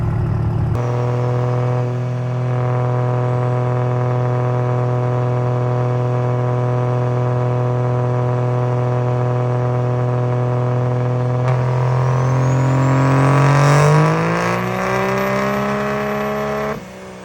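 A truck engine holding a steady loud drone during a dyno pull at a truck fest, then rising sharply in pitch as it revs hard near the end before cutting off, close and dominant with no talking.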